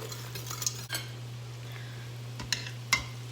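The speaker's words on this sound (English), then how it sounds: "I'm just going to give this another quick stir." A utensil stirs food in a cooking pot during keto meal prep, with soft scraping and a few light clinks against the metal over a steady hum, the sounds sparse and close.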